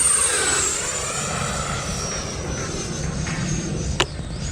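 A small E-flite F-16 RC jet taxis nearby, its electric ducted fan giving a high, steady whine that drifts gently in pitch, then a sharp click near the end.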